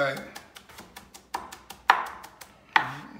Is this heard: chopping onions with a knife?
yes